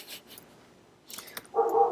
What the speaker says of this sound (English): What a great dog.